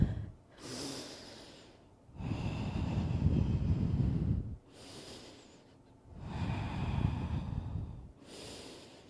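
Three slow, deep breaths during a yoga resting pose, each a long airy exhale through the nose separated by short quiet pauses, close to the microphone, with no talking.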